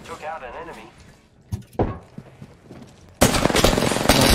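Gunfire in the Apex Legends video game, first faint and intermittent under Portuguese-speaking players' chatter, then a loud dense burst of rapid shots filling the final second.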